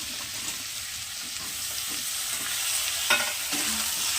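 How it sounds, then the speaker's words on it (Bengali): Papaya, potato, sweet potato, drumstick and raw banana fry together in a pan for shukto, giving a constant soft sizzle with occasional spatula scrapes and clinks, close and unaccompanied by talk. "এই সবজিগুলো এখন একটু খুব ভালো করে সবগুলো একসঙ্গে ভেজে নেব।"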